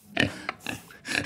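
A farm pig gives three short grunting oinks in quick succession, close and fairly loud, with quiet gaps between them and no talking.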